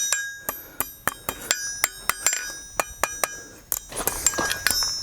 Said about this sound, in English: Now we've switched to a very light hammer